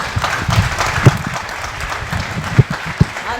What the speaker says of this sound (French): Je vous demande d'applaudir son Excellence